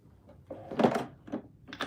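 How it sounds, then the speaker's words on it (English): Bedroom drawers slide and knock as they are moved, giving a few short scraping thumps with a louder rumbling shove in the middle, fairly close and with no talking. "I'm gonna move my drawers."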